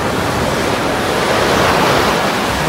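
Sea waves washing against the breakwaters in Sochi on a morning shore, a steady close broadband wash of surf with wind, no pauses or voices.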